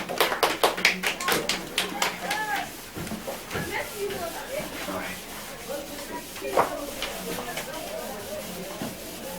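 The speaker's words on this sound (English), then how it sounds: "Let us clap hands for them" Grade 4 students clap their hands together in a classroom, a quick burst of sharp claps that thins into scattered taps and rubbing sounds while voices murmur under it.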